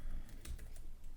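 Code typed on a computer keyboard, a short burst of close, quick key clicks at a steady pace.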